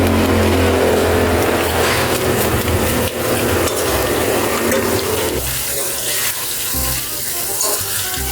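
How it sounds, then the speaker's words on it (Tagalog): Peanuts frying in oil in a pan, stirred with a utensil: loud continuous sizzle with scraping and clattering of the nuts, busy and close, without talk. "So kailangan natin ng halo-haloin lagi, no, para pantay lang yung pagkaluto niya."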